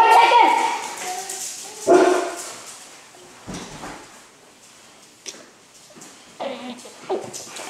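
A dog whimpers and gives short, sharp yips in scattered bursts, close by, mixed with people talking and household movement.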